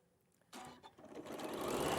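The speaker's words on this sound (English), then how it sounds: "And then you're going to sew 1/4 inch all the way down there." A sewing machine stitches a quarter-inch seam, starting after a brief quiet moment and then running as a steady, close whirring hum that builds slightly in loudness, with no talking over it.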